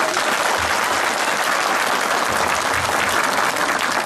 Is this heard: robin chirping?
no